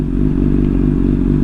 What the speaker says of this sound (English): That's my exhaust.